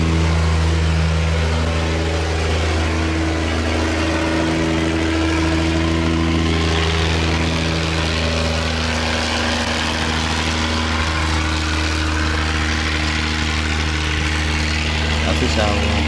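A barge engine runs steadily, rumbling low and loud as the vessel pushes past a salinity sluice gate on a river, with a constant drone throughout and a voice talking over it.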